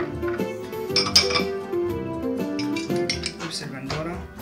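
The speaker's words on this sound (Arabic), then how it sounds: "وهلأ رح أضيف كل مكونات صلصة البيتزا بالخلاط" Pizza sauce ingredients, including tomatoes, peppers, onion and garlic, are dropped into a blender, making clinks and clatters of utensils and containers at close range, while speech is heard faintly.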